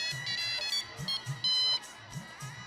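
A phone ringing indoors with short, thin electronic tone bursts repeating in a pattern, faint to moderate, over low background music.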